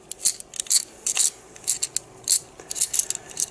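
Small screws being removed from a homemade REM ghost-hunting device: irregular bursts of crisp, bright clicking and scraping from a small tool, close and fairly loud, with short quiet gaps between.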